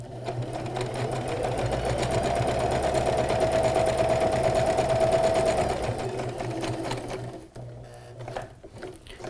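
A sewing machine stitches fabric for a bag in a steady, close, continuous whir that runs about six seconds, then stops, leaving quieter handling noises and faint clicks.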